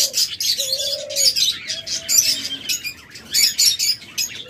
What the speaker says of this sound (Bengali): পর্যাপ্ত পরিমাণ ঘুঘু পাখি রয়েছে, একদম বিগ সাইজের ঘুঘু পাখি